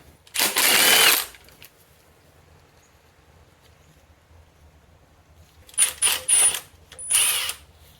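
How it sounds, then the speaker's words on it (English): An impact wrench works a nut loose during a 1991 Dodge Daytona 6G72 V6 engine teardown indoors, giving one long loud burst, then a quiet pause, then several short choppy rattling bursts close by. "I do not need the big breaker bar for this. I'll just use the impact."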